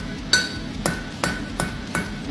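Hand hammer forging a five-cleft nail head on the face of an anvil with a round die, six sharp ringing metallic strikes at a steady, moderately quick rhythm, close and clear with no talk.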